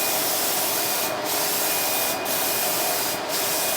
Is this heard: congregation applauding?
no